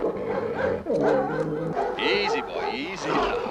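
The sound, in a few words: dog barking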